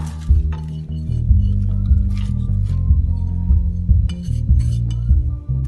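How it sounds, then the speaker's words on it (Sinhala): Mutton is kneaded by hand with spices and vinegar in a bowl, giving close, wet squelching and squishing with occasional clinks against the container. "ඔයාට අතින් මේක හොඳට අනා ගන්න පුළුවන්."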